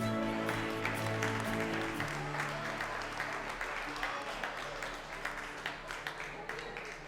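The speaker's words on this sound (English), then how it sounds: "One more time, a nice round of applause for Camille, the sister of our groom." Guests applaud at a wedding reception, a steady wash of clapping that thins toward the end, with music or voices underneath.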